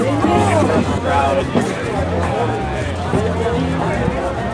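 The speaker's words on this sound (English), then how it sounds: "Everyone's pumped, the crowd's going." A dense, steady babble of many voices talking and calling at once, like an excited crowd, continuous throughout with no single voice standing out.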